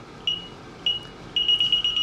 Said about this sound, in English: Gotta turn the damn alarm off.